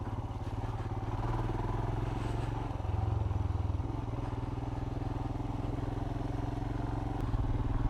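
Steady engine drone of a 2020 Royal Enfield Himalayan motorcycle being ridden, a continuous low thumping hum with slight swells in pitch, close and fairly loud throughout.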